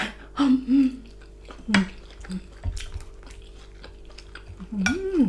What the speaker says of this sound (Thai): จับผัดกะเพราเผ็ดๆ